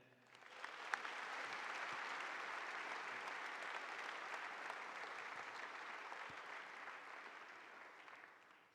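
An audience at a school assembly applauds to welcome Coach Lee back to MBA, a steady sustained clapping from a crowd that swells quickly and holds for several seconds before tapering off.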